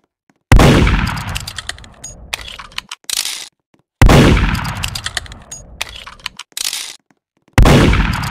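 Gunfire in the Roblox game Murder Mystery 2: three loud, sharp shots at roughly even intervals, each followed by a decaying ring and a few clattering game effects between them, with no talking.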